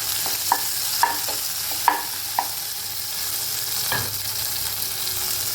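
Pilaf cooking in a pan, with a steady sizzling fry throughout and several soft scraping stirs of a utensil against the pot, close and moderately loud.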